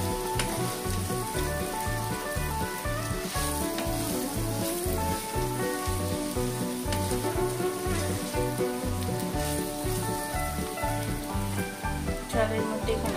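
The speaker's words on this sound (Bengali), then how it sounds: "তো এবার চালটাকে আমি একটু ভাজা ভাজা করে নেব" Rice coated with turmeric and ghee frying in a pan, giving a steady, close sizzle with a rhythmic pulse, like stirring, running throughout without speech.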